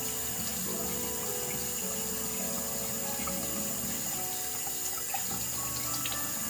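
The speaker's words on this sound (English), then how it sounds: "But then you rinse your face." Water runs steadily from a tap into a sink while a face is rinsed, a constant close wash with small splashy changes.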